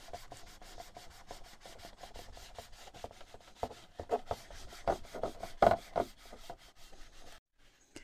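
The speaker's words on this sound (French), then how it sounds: "Et on fait pareil sur les flasques. On met du produit et on frotte." Cleaning product being rubbed by hand over a PS5's side panels: steady rhythmic scrubbing strokes, close and clear, growing firmer and more uneven toward the end before stopping abruptly.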